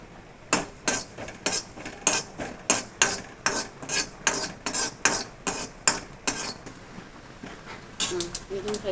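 Cumin is stirred in a frying pan, a utensil scraping the metal in steady, evenly spaced strokes, close and fairly loud, keeping up a brisk rhythm throughout.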